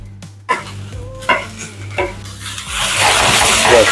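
Cabbage, celery and leeks stir-frying in a pan for veg Hakka noodles, with several sharp utensil scrapes and tosses early on, then a steady, loud sizzle building toward the end.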